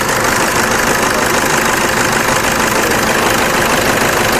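Steady, loud idle of a 2011 Toyota Innova V intercooler engine heard close by, a constant dense rumble with no breaks.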